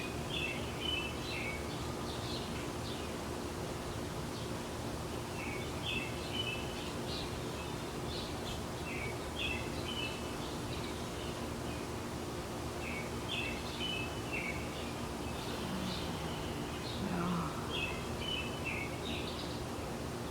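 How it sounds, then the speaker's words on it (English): Scattered bird chirps and short songs repeat over a steady, hissing outdoor background, fairly distant and faint. "See if you can figure out how many birds you can hear."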